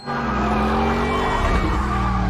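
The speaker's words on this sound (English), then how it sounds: "and then John does multiple drift circles around them all to kill him." A car engine revs hard while tires squeal and skid in a sustained, loud drift as a stunt car does multiple drift circles in an action film scene, the screech continuing steadily without pause.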